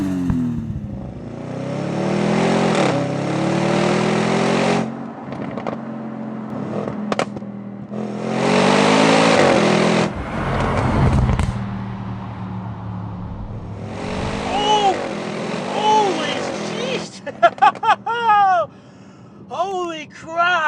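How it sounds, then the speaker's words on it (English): An Audi RS7 weighing nearly two tons launches hard, its engine roaring and climbing in pitch through repeated bursts of acceleration with gear changes between them, as voices react excitedly. "This RS7 weighs nearly 2 tons, and that acceleration is just about mind-blowing, guys."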